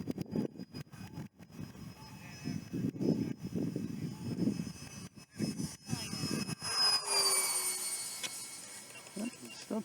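Twin 70mm electric ducted fan X-Fly J-65 Gulfstream G650 RC jet flying straight and level overhead, a steady distant whine rising and falling as it passes, with wind noise and handling bumps throughout.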